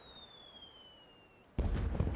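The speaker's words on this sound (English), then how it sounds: "Fireworks." Video game fireworks: a thin rising whistle glides for over a second, then an abrupt loud burst of crackling, popping explosions fills the rest, with no voices.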